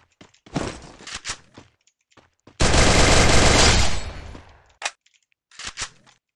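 In the Free Fire video game, a burst of rapid automatic gunfire rattles for over a second between scattered single shots and footstep thuds, close and loud.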